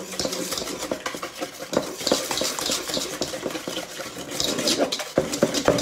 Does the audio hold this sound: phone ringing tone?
no